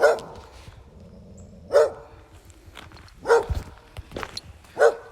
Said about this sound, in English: Dog just guarding their territory.